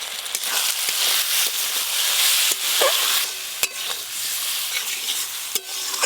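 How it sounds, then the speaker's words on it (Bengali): A spice paste of fried onion, ginger and garlic with chopped tomato, dry red chilli paste, turmeric and salt sizzles for a stingray (shankar) fish curry. The steady frying hiss is broken by repeated scraping and clacking stirring strokes. "শঙ্কর মাছ রান্নার জন্য মাংস যেরকম মশলা কষতে হয় ঠিক সেরকম ভাবে মশলা কষে নিয়েছি"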